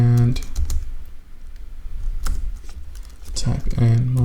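Fingers typing on a computer keyboard during a front-end JavaScript coding session, bursts of quick clicky keystrokes separated by pauses, close and clear, with a voice speaking briefly over the start and end.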